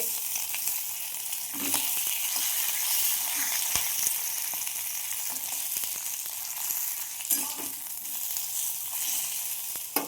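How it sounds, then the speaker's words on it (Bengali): Flat beans fry in a pan with a steady, close, bright sizzle and crackle, broken by a few sharp stirring clicks and faint scrapes, and no voices. "তো আমার শিমটা ভাজা ভাজা হয়ে এসছে"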